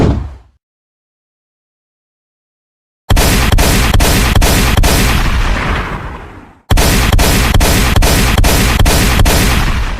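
Cartoon gunfire erupts in two long bursts of rapid, evenly spaced loud shots after a brief silence, each volley of about six booming reports, with no talk over them.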